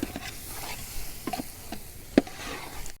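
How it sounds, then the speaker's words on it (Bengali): Boiled potatoes fry with spice masala in a pan, giving a low, steady sizzle broken by scattered spoon scrapes and clicks, one sharper clack standing out near the end. "এখন আলু দিয়ে আমরা একটু মশলাটা কষাই নিব।"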